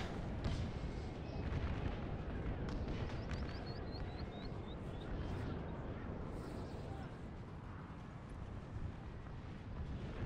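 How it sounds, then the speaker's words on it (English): Artillery fire rumbles through a Napoleon Total War Gettysburg mod battle, with a dense wall of low booms and distant cannon blasts rolling continuously beneath battlefield din, fairly faint overall. "Artillery really pounding this position."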